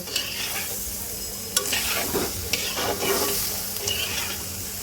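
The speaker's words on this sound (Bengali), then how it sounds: "সব কিছু সুন্দর করে একটু মিক্স করে দেব আর সব কিছু সুন্দর করে একটু ভাজা ভাজা করব" Steady sizzling from a hot pan of potatoes and pointed gourd being stir-fried, with scraping stirs and a few utensil clicks, continuous and close, no voices.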